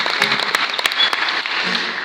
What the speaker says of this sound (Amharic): እንኳን ደስ አላችሁ ካላችሁ አጨብጭቡላቸው።